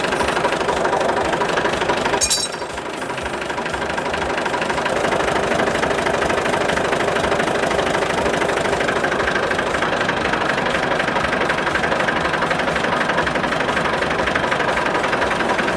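A Massey Ferguson 20 tractor engine idles steadily and loudly up close while the power steering is worked left and right. Its knocking rumble carries on without a break, with one brief sharp knock near the start.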